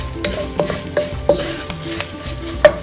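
Spiced rice dumpling mixture with turmeric and red chili being stirred in a hot pan, steady sizzling frying under repeated scraping strokes of the spoon, close and alone.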